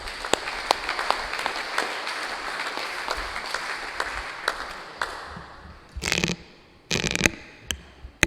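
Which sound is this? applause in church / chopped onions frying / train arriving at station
applause in church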